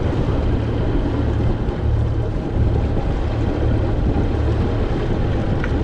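A boat engine idles in gear ahead at about 1,500 RPM during an anchor test, a steady low drone with constant wind buffeting across the microphone throughout.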